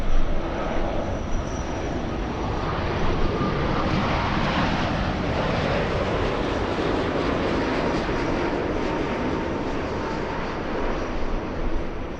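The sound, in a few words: Boeing 787 Dreamliner aircraft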